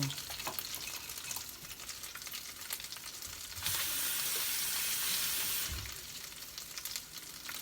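Pangasius fish pieces frying crisp in hot oil, a steady sizzle with stirring clatter, swelling into a louder, denser hiss for a couple of seconds before settling back.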